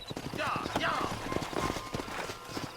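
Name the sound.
horses trotting and riders dismounting in video game Red Dead Redemption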